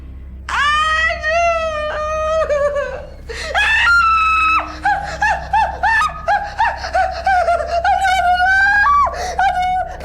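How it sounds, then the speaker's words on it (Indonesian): A woman screams in a haunted-house drama scene, a run of shrill, wavering cries that rise and break off, close and loud, then continue in choppier bursts. "Mama kenapa sih teriak-teriak?"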